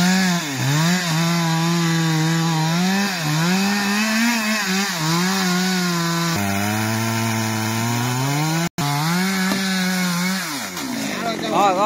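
A chainsaw roars loudly and continuously, its engine pitch rising and falling as it cuts through the trunk of a very large tree to fell it, with a brief drop mid-cut.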